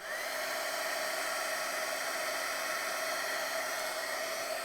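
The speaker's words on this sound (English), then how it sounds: "let's go ahead and shoot that with the dryer, or the heat tool rather." A steady, high-pitched whirring blast of air runs continuously from a small craft heat tool blowing close to the microphone.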